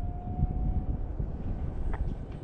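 A 3D printed RC F-16 jet flies at half throttle, its motor giving a faint steady whine heard amid heavy outdoor wind rumble.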